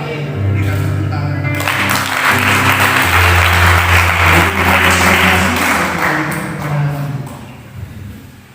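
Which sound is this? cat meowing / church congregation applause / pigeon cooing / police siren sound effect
church congregation applause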